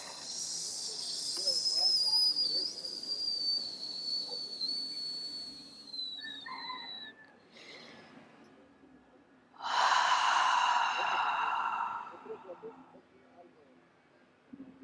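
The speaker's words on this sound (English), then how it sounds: "Take a few deep breaths." A slow, deep breath drawn in and pushed out during a guided meditation ritual, one strong airy exhale rising loud and fading over a couple of seconds after a quieter stretch with a thin whistling tone.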